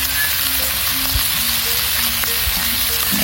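Chopped onions frying in hot oil: a loud, dense, crackling sizzle that runs steadily throughout, with faint bubbling spits close by and no talking.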